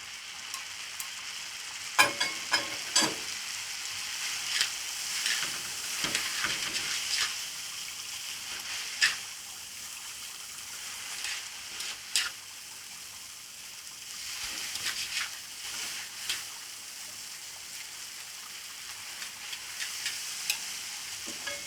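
Stir-fried rice vermicelli with egg and green onion sizzles steadily in a hot pan, with scattered clacks and scrapes of chopsticks stirring and tossing the noodles close by.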